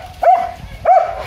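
A dog gives two short, high yelping barks about half a second apart, close and clear over a quiet background.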